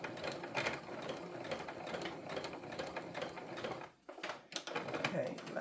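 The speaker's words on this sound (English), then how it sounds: "It's also good to make sure that my sewing machine is all threaded up" A sewing machine stitches fabric in rapid, even bursts of needle clatter, close and steady, broken by a brief pause before it resumes.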